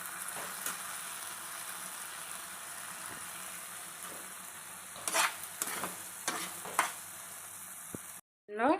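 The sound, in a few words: tomatoes frying in oil in a pan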